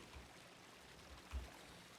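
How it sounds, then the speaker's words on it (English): Faint, steady running water trickles in a puzzle video game, a quiet soft wash with a few low thumps, and no one talks over it. "I can hear running water."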